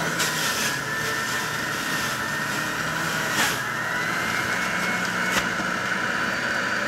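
A juicer processes orange, pineapple and mango, giving a loud, steady motor whir with a high whine that runs continuously, broken by a few brief sharp clicks.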